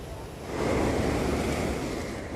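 Sea waves at Uppada beach near Kakinada roll in as a rising, steady wash of surf with some wind noise, fairly soft and continuous, with no voices.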